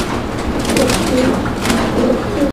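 Pigeons coo softly over steady background noise and faint voices, the low rolling calls repeating a few times before cutting off abruptly.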